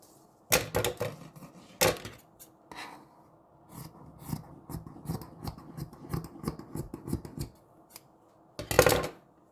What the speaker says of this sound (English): So I'll cut out the 9 inches.